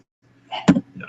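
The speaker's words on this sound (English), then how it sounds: "she sneezed twice" A woman lets out one short, sharp sneeze close by, with a faint breathy trailing sound just after it.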